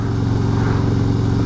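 A motorcycle being ridden on a winter road after an ice storm, its engine holding a steady, loud, continuous mid-pitched drone with a constant low rumble, no talking.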